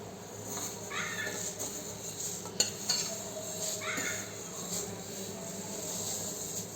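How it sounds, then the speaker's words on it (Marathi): Dry vermicelli is tipped into a pot of boiling water for shevya upma and stirred, with soft scraping swishes and faint metallic clinks from the pot, a few light knocks, and steady simmering underneath. "आता ह्याच्यामध्ये शेवया टाकून घेऊया आपण."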